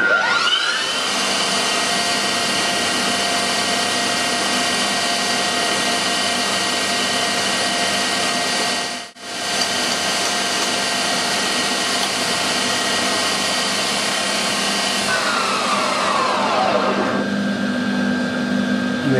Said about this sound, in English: I'm going to run the lathe at full speed,